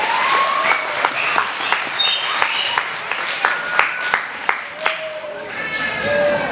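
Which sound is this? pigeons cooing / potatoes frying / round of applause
round of applause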